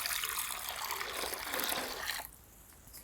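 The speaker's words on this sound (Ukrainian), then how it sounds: "кожного ранку і ввечері не лінуйтесь наливати гарячої води" Hot water pours into a container for chickens in winter, a steady close gushing splash that stops abruptly near the end, leaving a quieter trickle.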